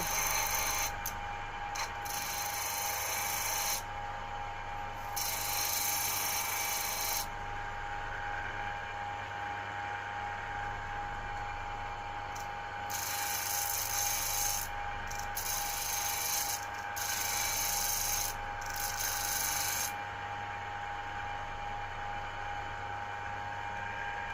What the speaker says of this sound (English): now we want to chamfer the edge of that very slightly. So just go round.